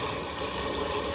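Hot water gushes from a faucet into a Pinter homebrew keg in a steady, fairly quiet rushing stream that runs unbroken the whole time.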